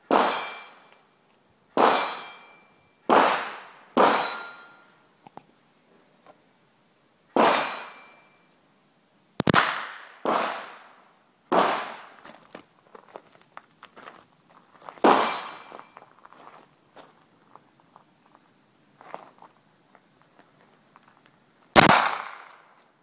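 Pistol shots fired at the Dynamo shooting range, a series of about a dozen loud, sharp cracks with uneven gaps of one to three seconds between them, each followed by a short metallic ring and faint background clatter.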